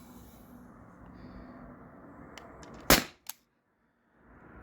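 T4E HDP50 CO2 pistol fires a single sharp, loud pop close by, followed by a quick smaller click, with faint background hiss before and after.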